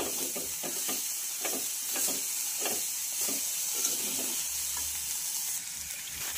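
Dried shrimp chutney with chopped coriander sizzles steadily in a hot pan while a spatula mixes it, soft scraping strokes over a constant frying hiss.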